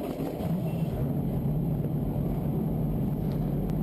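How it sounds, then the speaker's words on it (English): Many race car engines start up and rumble together at a distance at the Sonoma race track, a steady low roar of motors idling and revving with no voices. "I love that sound. I didn't want to start talking. All those engines coming to life."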